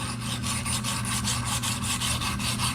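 A boning knife is rubbed steadily across a sharpening stone in quick repeated strokes, a dense gritty scraping that continues close and evenly without pause.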